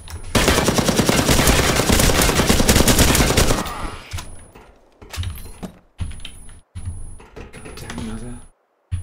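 Rapid automatic gunfire rattles loud and dense in the survival shooter Dysterra, then breaks into shorter choppy bursts separated by brief silences.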